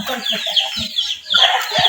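A chicken clucks in a short run of close, throaty calls with no other sound around them.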